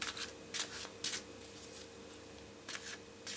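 Tarot cards being shuffled by hand in a quiet room: soft, brisk bursts of riffling paper at an uneven pace, close and faint, with pauses between them.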